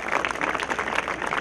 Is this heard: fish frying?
no